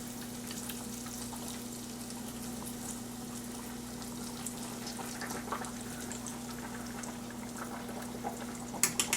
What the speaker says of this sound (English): I'm going to slowly put one of these pork tenderloins into the fryer.